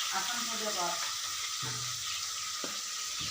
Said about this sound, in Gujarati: હવે તેલ આવી ગયું ને હરખું થાય રેખા તો બસ હમણાં તરે જાય છે